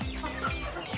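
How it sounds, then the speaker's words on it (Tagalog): Free-range chickens cluck over one another in a brief flurry of commotion, several birds layered close together in a single dense second. "nagkakagulo na naman sila mga ka-chicken"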